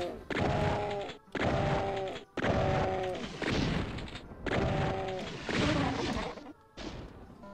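Pistol fire in classic DOOM on PC, a steady series of loud retro shots, each followed by a short decaying boom with a tonal ring, about once per second.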